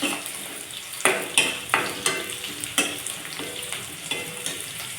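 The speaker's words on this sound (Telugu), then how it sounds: "ఇప్పుడు ఇది మనం ఎర్రగయ్యిన దాకా ఇలా వేసుకోవాలి" Ingredients being stir-fried in a pan in a village-style kitchen while cooking ponnaganti greens, a steady sizzle broken by several sharp spoon scrapes and clinks against the pan, close and clear with no talking.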